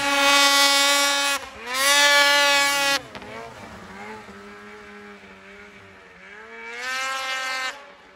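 A 600RS snowmobile engine pulls hard through deep snow, its two-stroke whine rising and falling in loud sustained bursts between brief throttle lifts, up close and dominant.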